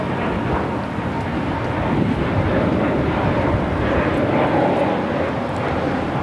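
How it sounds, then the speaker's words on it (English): Spirit Airlines Airbus A320neo taking off at LAX, a loud continuous jet engine roar that holds steady throughout, with some wind noise mixed in. "This is Spirit Airlines Flight 1677 taking off to Dallas-Fort Worth on the A320neo."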